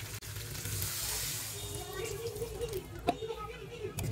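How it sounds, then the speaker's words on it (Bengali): Water is poured into a pan of sizzling spiced potato curry (aloo dum) with grated tomato and boiled potatoes, giving a continuous loud hiss and bubbling sizzle with a few small clinks. "এবার আমি জল দিয়ে দেব।"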